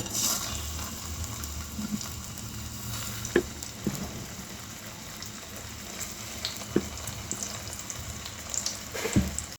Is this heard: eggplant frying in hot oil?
yes